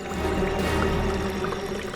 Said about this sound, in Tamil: தண்ணி சத்தம் கேட்குதே